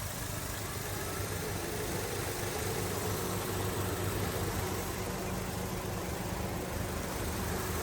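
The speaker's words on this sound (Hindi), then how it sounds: "तो ये था सुजुकी K12N पेट्रोल इंजन।" A Suzuki K12N petrol engine idles in a 2022 Maruti Suzuki Baleno, a steady even hum with a broad hiss that holds constant throughout, with no voices over it.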